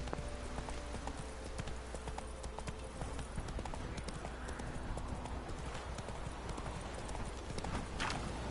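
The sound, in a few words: horse galloping, Roach in the video game The Witcher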